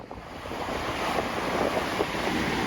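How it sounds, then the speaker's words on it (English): Sea waves break and wash on the shingle of Chesil Beach in strong wind, a continuous loud roar of surf with steady wind noise buffeting the microphone, no voices. "The waves have definitely got bigger, the wind's increased."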